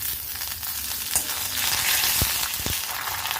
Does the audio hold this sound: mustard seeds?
yes